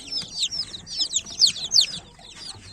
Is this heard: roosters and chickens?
yes